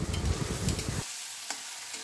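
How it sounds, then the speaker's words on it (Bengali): Pulla stirred and fried in hot oil with no spices added, a dense crackling sizzle with scraping strokes for about a second before it abruptly drops to a faint, quiet hiss. "ভালো করে নাড়াচাড়া করে আমি পুল্লাটা ভাজতে ভাজতে সিদ্ধ করে নেব।"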